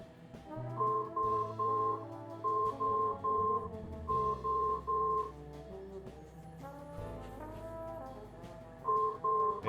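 A cell phone in the video game Resonance rings with a repeating electronic tone pattern. The tone comes in bursts over a soft background music bed, with no talking.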